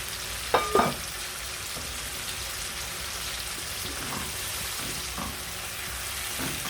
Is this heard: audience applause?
no